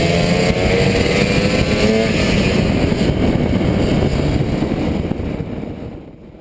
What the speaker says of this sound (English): It's a two-stroke engine, two-cylinder.